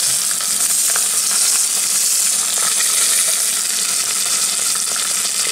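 Goat leg searing in hot olive oil inside an Instant Pot, giving a steady, loud, close sizzle with a constant hiss that runs unbroken through the whole stretch, with no voices over it.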